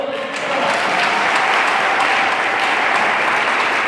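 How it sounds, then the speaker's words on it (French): Loud, sustained applause from a big church congregation swells quickly after a brief lead-in and continues evenly, close and full. "Je veux des acclamations."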